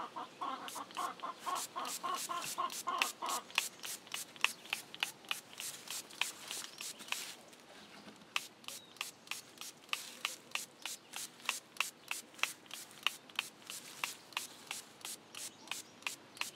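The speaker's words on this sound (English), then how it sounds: "Green cure in my little spot sprayer." A small hand-pump spot sprayer misting Green Cure onto a cannabis plant in a greenhouse, giving quick, regular bursts of spray in a steady rhythm, close and fairly loud, with no talking.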